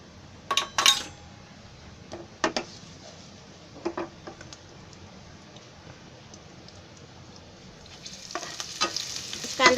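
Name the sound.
onion frying in oil with bay leaves for crab curry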